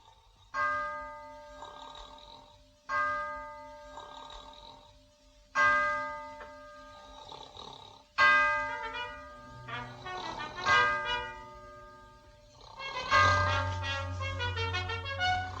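Ship's bells striking four bells aboard a vessel, heard as four distinct ringing strikes in two pairs, bright and sustained with long decaying tones, then busier clanging and a low rumble follow near the end.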